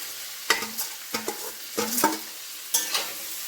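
Mushrooms with chopped green chillies fry in a pan for a mushroom masala, a soft sizzle under several distinct scraping stirs of a spatula at close range, spaced irregularly with no talking.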